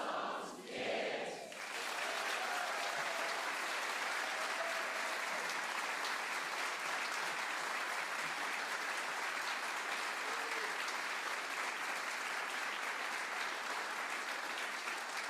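A studio audience at a live music show applauds, a dense steady clatter of clapping that starts after a short pause and holds evenly for many seconds, with no talking over it.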